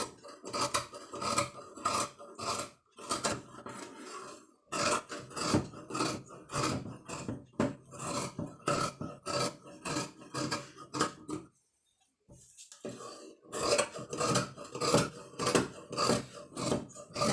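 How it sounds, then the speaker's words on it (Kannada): Scissors snip through blouse fabric along marked lines, giving a quiet run of rhythmic, crisp cuts in steady repeated strokes, with a short pause midway before the cutting resumes. "ಇವಾಗ ನಾನು ಏನು ಮಾರ್ಕ್ ಮಾಡಿದ್ದೀನಿ ಅದನ್ನು ಕಟ್ ಮಾಡ್ಕೋತೀನಿ"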